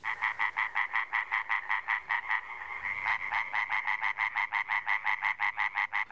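Tree frogs croak in a rapid, regular chorus of pulsing calls that runs continuously and loudly at close range.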